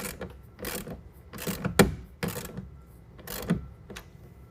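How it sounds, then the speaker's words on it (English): A ratchet or half-inch wrench turns a clamp bolt on an Access Lorado tonneau cover, giving several short bursts of clicking strokes in a loose rhythm, close and fairly clear. "1/2 inch wrench or ratchet while I'm holding the clamp vertical."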